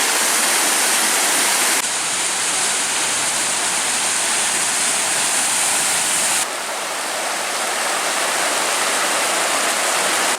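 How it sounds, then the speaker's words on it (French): A mountain stream rushes steadily over rocks, a dense, loud and continuous wash of flowing water close by, with no voices. "on se retrouve devant un ruisseau"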